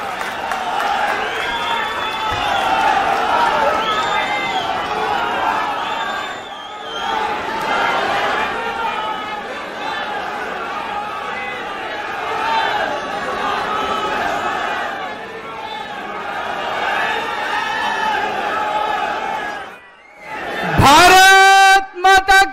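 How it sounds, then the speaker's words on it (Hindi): A large crowd cheering and applauding at a political rally to welcome Arvind Kejriwal, a loud sustained roar of claps and voices that drops out near the end before a burst of sound. "जोरदार तालियों से स्वागत करिए।"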